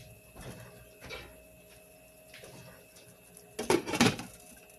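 A lid placed over a cooking pot on the stove, a quiet clatter with a short burst of metallic rattling near the end against faint kitchen hum.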